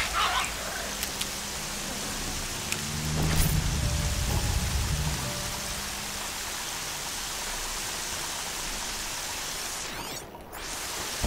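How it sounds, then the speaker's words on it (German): Rain falls in the video game Horizon Zero Dawn as a steady, loud hiss of noise, with a short rumbling swell partway through and faint game sounds layered on top. "Dieser Regen."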